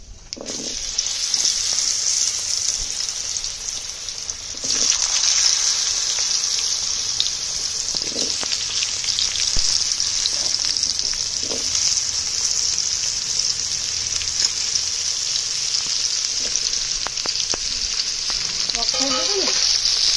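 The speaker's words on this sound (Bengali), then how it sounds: "ধুয়ে রাখা আলু আর পেঁপেটাকে তেলের মধ্যে দিয়ে দেব" Diced potato and papaya frying in hot oil with radhuni seeds, a steady loud sizzle throughout that jumps in intensity early on, with scattered clinks and stirring scrapes near the end.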